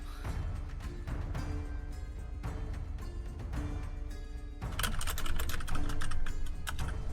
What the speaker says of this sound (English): I'm a slow typer.